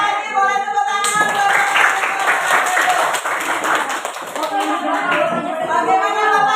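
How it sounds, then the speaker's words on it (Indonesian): An audience at an Indonesian teachers' positive-culture session breaks into sustained clapping that starts abruptly after a moment of voices, with chatter and music continuing under the applause. "Boleh tepuk tangan."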